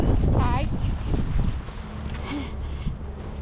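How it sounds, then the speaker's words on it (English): Gusty wind blows outdoors on a sunny, cold day in Newport, Rhode Island, buffeting the microphone with a low rumble while people talk over it. "It's windy here."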